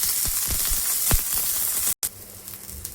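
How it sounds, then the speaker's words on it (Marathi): Garlic roasts in hot oil in a pan beside chillies for a Marathi turai bharit recipe, a steady loud sizzle with crackling pops that quiets and thins after a brief cut. "लसूण पण भाजून घेऊया. तेल टाकून घेऊया."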